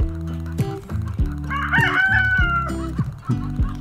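A rooster crows loudly over a steady backdrop of clucking chickens, with several hens chattering close by throughout.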